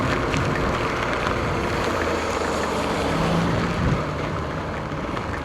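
Strong storm wind blows near the Abacan River as a constant, loud, broadband roar and buffeting, with no voices.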